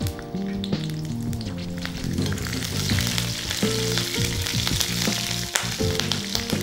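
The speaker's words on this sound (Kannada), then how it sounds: "ಎಣ್ಣೆ ಕಾದಿದೆ. ಹಸಿಮೆಣಸಿನ್ಕಾಯಿ ಹಾಕೊಳ್ಳೋಣ, ಒಂದು 3 ರಿಂದ 4" Three or four green chillies dropped into hot oil in a pan, sizzling and crackling steadily up close, with clanks and scrapes of stirring running through a busy kitchen background.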